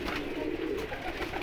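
Pigeons of a prized rare breed, Sialkoti among them, coo steadily and close by in a continuous soft murmur, with no talking.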